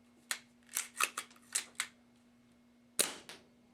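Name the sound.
Snow Wolf M99 airsoft sniper rifle firing one shot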